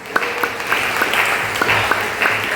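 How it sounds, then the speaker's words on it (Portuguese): A church congregation applauding loudly together, a dense steady wash of clapping with sharper individual claps popping out, sustained throughout, with faint voices underneath. "Palmas bem fortes para o Senhor."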